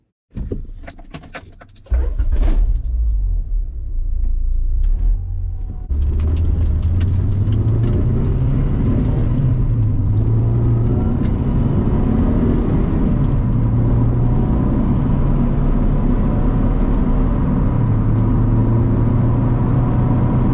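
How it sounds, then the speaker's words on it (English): An H22-powered third-generation Honda Prelude engine starts up and rumbles steadily as the car drives, with the revs rising and falling through gear changes, loud and close throughout. "let's take it for a ride and see what it's like to drive an H22 powered 3rd gen Honda Prelude"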